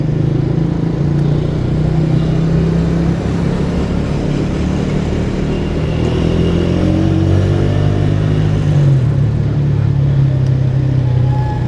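A 125 cc motorcycle being ridden at moderate speed, its steady mid-pitched engine drone with slight rises and falls plus wind and road rumble, continuous and close.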